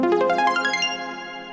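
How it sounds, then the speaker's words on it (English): Arpeggiating harp synth from a pop track plays a rapid ascending run of plucked notes that blur into a shimmering wash, then sustain and fade slightly, with no voices present. "the second element is this arpeggiating harp synth"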